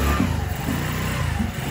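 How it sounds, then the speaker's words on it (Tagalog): A borrowed motorcycle's engine revs loud and close, a continuous rough mechanical drone that swells a few times across the short stretch. "Sila po ay nanghiram ng motor kay Ate Rups."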